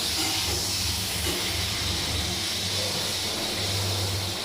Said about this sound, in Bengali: এই যে প্রেসার কুকারে আমার ভাত ভালো হচ্ছে